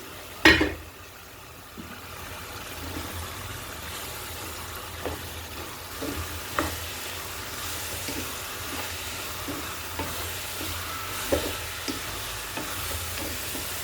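Minced goat meat is stir-fried in a pan. Soft sizzling sits under repeated spatula scrapes and taps at an irregular pace, fairly quiet, and opens with a sharp clatter. No one speaks.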